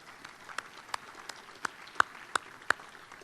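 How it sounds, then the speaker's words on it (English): A few scattered claps from a luncheon audience at a chamber of commerce event, about eight separate faint hand claps at an uneven pace against a quiet room. "Let's give them all a big round of applause also"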